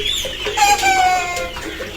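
Australian breed chickens on a poultry farm cluck and squawk close by, several overlapping bird calls in a busy, loud chorus.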